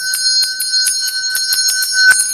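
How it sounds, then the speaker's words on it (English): A Buddhist ritual bell is rung during a puja, giving about ten clear, bright strikes in a steady rhythm, close and loud with ringing overtones and nothing else heard. "For the first verse, second verse, ring the bell."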